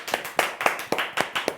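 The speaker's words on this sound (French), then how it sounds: "Applaudissez Lynn." Small studio audience clapping in a French talk show, a sparse, uneven patter of a few hands with sharp, evenly spaced claps, moderately close and with no talk over it.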